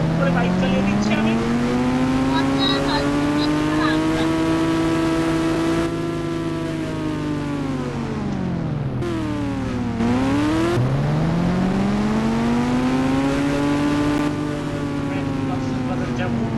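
A new motorbike engine droning while riding on a road, a steady close hum whose pitch sinks and climbs as the rider slows and speeds up, with wind noise throughout.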